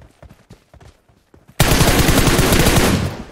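Automatic gunfire in the battle-royale video game PUBG. Light footsteps tap faintly at first, then a loud, sustained, rapid burst of shots breaks out and runs to the end.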